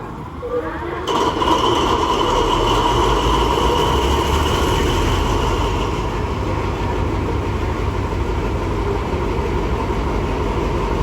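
The diesel engine of Alsthom locomotive 4206 on train 790 starts at Surat Thani station. A sudden loud start after about a second settles into a heavy, steady idling rumble.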